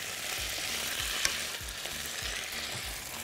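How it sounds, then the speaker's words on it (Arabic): Potato pieces fry in a pan of ghee and oil, giving a steady, close sizzle with soft crackles and an occasional stir, no voices. "والبطاطس برضو مش هحمرها تحمير جامد، هي نص يعني لفه كده بس في الايه؟ في السمنه والزيت دول"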